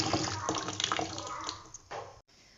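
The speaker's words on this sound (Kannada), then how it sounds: "ನೀರಿಗೆ ಸ್ವಲ್ಪ ಅರಿಶಿನ ಸ್ವಲ್ಪ ಹಾಕಿ ಬೆಳೆಸ್ಕೊತೀವಿ" Water splashing and pouring steadily into a vessel with a little turmeric added, close, with a short gap and a final brief splash near the end, and faint voices in the background.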